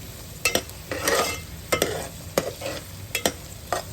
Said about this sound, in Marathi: कांदा चांगला लाल रंगावरती येऊ द्यायचा आहे आणि मऊ झाला पाहिजे चांगला